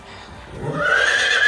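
A horse shut in its box on a farm lets out a loud, rising whinny that swells and holds, close by, with faint shuffling beforehand.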